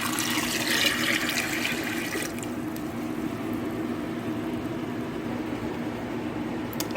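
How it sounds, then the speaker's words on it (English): Water pours into a crock pot in a steady close rush from four cups, loud at first and then settling into a softer continuous trickle and splash. "And then I've got water, so I've got 4 cups here. And I'm just going to pour that in there."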